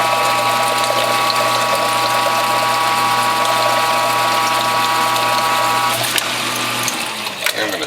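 A WHF juicer press squeezing whole watermelon pulp, rind and all, gives a steady loud mechanical whine and grinding hum with ratcheting gear noise, cutting off near the end as the machine winds down.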